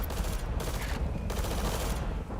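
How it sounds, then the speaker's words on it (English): Sustained automatic gunfire from units in the strategy game Tom Clancy's EndWar, loud and continuous, with bursts broken by brief pauses. "We are opening fire at hostiles."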